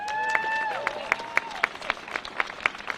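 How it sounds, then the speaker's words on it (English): A crowd applauds at the Findlay Garage grand opening press conference as Commission Vice President Denise Driehaus comes up, scattered claps popping over a murmur of voices and whoops, moderately close and fairly light. "give a big round of applause to our next speaker, Commission Vice President Denise Driehaus"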